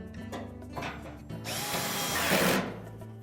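A power drill whirs as it drives screws into a Whirlpool dryer panel during motor pulley replacement, a loud sustained burst rising over a second and a half after quieter clicks and handling noises.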